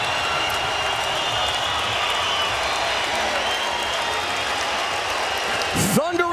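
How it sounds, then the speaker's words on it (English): Sustained applause and cheering from a packed arena crowd at HP Pavilion, San Jose, following a Strikeforce MMA title fight, a continuous wash of clapping with a commentator speaking over it and a brief louder burst near the end. "thunderous applause from the crowd here in San Jose"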